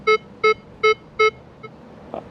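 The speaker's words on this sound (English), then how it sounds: "You can hear a very faint tone right there." Four short, evenly spaced electronic beeps come from a Minelab Vanquish 540 metal detector, followed by a fainter fifth tone and a small knock, with quiet surroundings.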